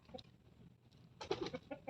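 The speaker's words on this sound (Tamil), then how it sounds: "கோழியெல்லாம் அணையருக்கு வந்துருச்சு எல்லாம்." Chickens cluck in a short burst of quick, fairly close calls over a low outdoor background hum, with no talking.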